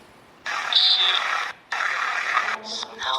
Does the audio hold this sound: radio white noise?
yes